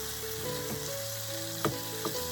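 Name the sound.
garlic frying in a pan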